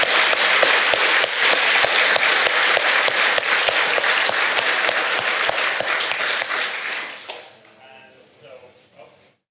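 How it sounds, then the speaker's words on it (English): Audience applause at a tech conference opening ceremony rings out loud and dense for several seconds with sharp individual claps, then fades out as a voice begins speaking near the end. "I want to give an applause to these sponsors"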